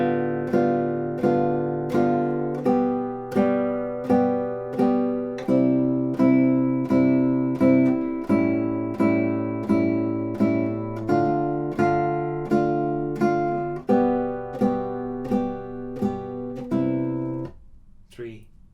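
A classical guitar plays Sagreras Book 1, Lesson 51 alone in a quiet room, a clear run of evenly plucked notes and chords in a steady counted rhythm that stops abruptly near the end.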